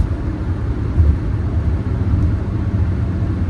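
Inside a Mercedes-Benz 300SD cruising at about 70 mph and roughly 3,300 RPM, the engine and road noise blend into a loud, steady low rumble with no pauses.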